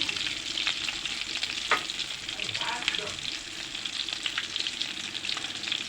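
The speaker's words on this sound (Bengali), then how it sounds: "এখন আমি সুন্দর করে ভেজে নেব বন্ধুরা আমি ফিশ ফিঙ্গারগুলো এখন উল্টিয়ে দেবো" Fish fingers made from a large fish fry in hot oil, giving a dense continuous sizzle and crackle close by, with occasional clatter as they are turned over.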